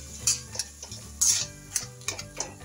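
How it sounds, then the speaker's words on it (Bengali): A spoon stirs tomato chutney with apple in a pan, giving scattered scraping clicks and soft knocks against the metal at an irregular rhythm, close and fairly quiet with no talking. "এবার নিয়ে ভালো করে নাড়াচাড়া করবো"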